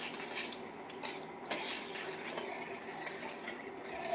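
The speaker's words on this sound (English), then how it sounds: "Stir it well." Sugar being stirred into waffle batter in a bowl, a steady scraping and clinking of a utensil against the bowl, close and moderately loud, with no talking.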